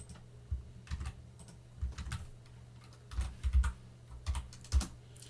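Keystrokes on a computer keyboard, quiet irregular bursts of tapping with short pauses between clusters of keys, nearby and alone without speech.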